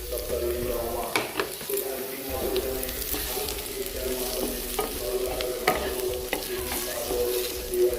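Rice fries in a hot pan with a loud, continuous sizzle while a spatula scrapes and stirs in repeated strokes, heard up close.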